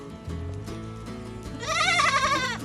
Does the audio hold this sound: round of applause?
no